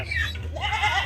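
A goat carried on a small boat across a village wetland in Bangladesh bleats once, a short, wavering cry heard fairly close over a faint low background hum.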